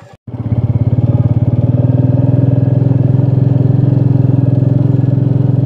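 A motorcycle engine runs steadily at a low, pulsing idle-like rhythm, loud and close after a brief click, with no talk over it.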